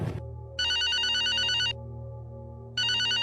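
A phone ringtone plays in bursts, a bright repeating electronic melody that sounds, pauses about a second, then starts again, clear and close over a low steady background hum with no talking.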